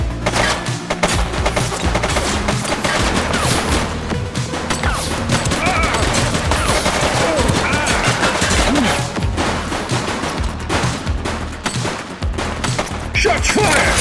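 Rapid bursts of gunfire crack through a busy shootout in the police video game The Precinct, with dense overlapping shots and splintering impacts running loud and continuous throughout.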